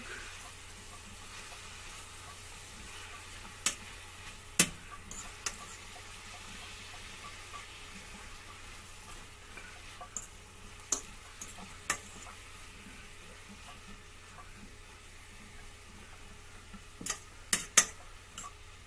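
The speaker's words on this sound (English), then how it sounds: "Now you can hear that it's sizzling." Faint, steady sizzling hiss of food frying in a pan, with occasional sharp clicks and taps scattered throughout.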